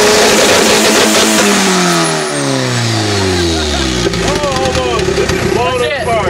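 Loud car engine with antilag revving hard, rising and falling pitch sweeps followed by sharp pops and crackles from the exhaust, close by, with people's voices mixed in.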